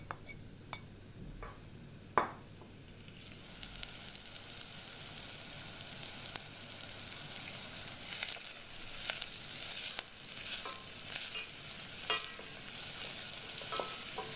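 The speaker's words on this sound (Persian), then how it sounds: "یه دونه پیاز بزرگو که خوردش کردم به روغن اضافه میکنم تا مقداری تفت بدم" A large chopped onion sautéing in oil for an Iranian green bean stew, starting with a few clatters of the pan, then a steady loud sizzle with crackling pops and stirring throughout.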